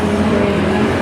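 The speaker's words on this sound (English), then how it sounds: "there's a tournament in a race, online racing" A race car engine from an online racing simulator game drones steadily at high volume, a constant loud motor tone with no voices.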